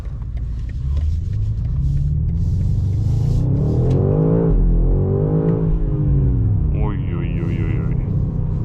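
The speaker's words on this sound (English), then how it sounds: "when I put it in M2 you can instantly hear the V8" A 2026 BMW M5 with a 727 hp V8, heard from inside on the Autobahn, revs up loudly in a rising, deep rumble that falls and climbs again, with a driver speaking over it.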